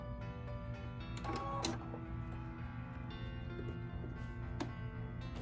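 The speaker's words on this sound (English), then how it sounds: "Keep sewing. And just keep sewing all the way around." A sewing machine stitches binding onto a quilt with a steady mechanical whir and hum, close and even throughout, with a few faint clicks.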